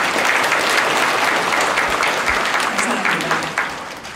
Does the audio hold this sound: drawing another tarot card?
no